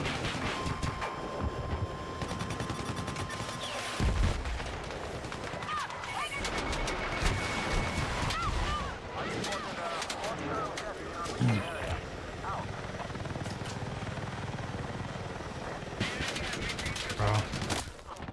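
Automatic gunfire in a video game as players shoot at an enemy tank, dense bursts and fusillades running throughout under wind-like rumble, with excited voices talking over the shooting.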